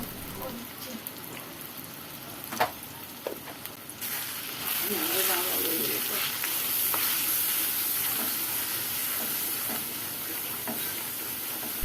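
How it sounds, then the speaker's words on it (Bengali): Spices fry in a pan for a chicken curry with drumsticks, a soft, steady sizzle that grows louder partway through, with occasional scraping taps from stirring. "সবগুলো মশলা খুব ভালোভাবে নেড়েচেড়ে মিশিয়ে নেব আর সামান্য ভেজে নেব"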